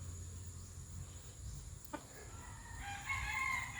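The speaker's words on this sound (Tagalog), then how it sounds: "Ayun na ang mga tandang." A bantam rooster crowing outdoors, faint and somewhat distant, with one short sharp knock partway through and the crow rising near the end over a quiet low hum.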